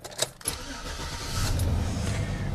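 A car engine cranks over with a couple of quick starter bursts, then catches and settles into a steady, close, fairly loud idle on a hot day, with no talking.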